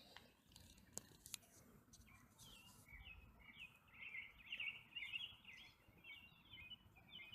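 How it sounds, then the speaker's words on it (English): Birds chirp faintly at sunset in an open outdoor spot, a cluster of quick high tweets over a low rustling background with a few soft knocks. "Birds chirping."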